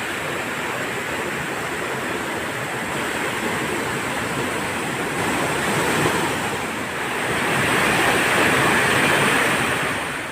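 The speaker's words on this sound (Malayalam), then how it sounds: "ആ വെള്ളച്ചാട്ടവും കൂടെ വന്ന് ചേരുന്ന സംഗമ സ്ഥാനമാണിത്." A waterfall and a stream meet at a confluence in a tea estate, making a loud, continuous rushing roar of water that swells slightly near the end, with no voices.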